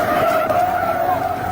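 Truck tires skidding on Highway 218 in Coralville, a loud continuous screech lasting the whole moment, with no impact clearly standing out.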